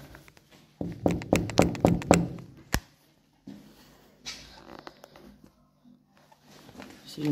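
Knocking on a door, a quick series of about five sharp raps followed by a single louder knock, with quiet voices and movement afterward.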